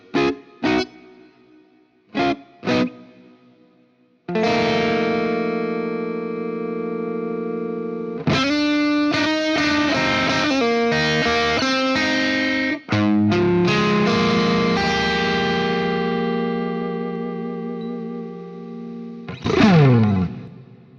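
Clean-ish electric guitar chords ring out through a Marshall amp with a little reverb, played as a few short muted stabs followed by long sustained strummed chords that change several times and let ring.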